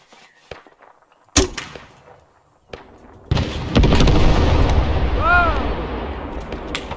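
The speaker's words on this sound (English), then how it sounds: "That wasn't even napalm, that was just a bomb." A bomb explosion in a Vietnam War video game: sharp distant bangs, then a loud rumbling blast with a long rolling roar, with a voice talking.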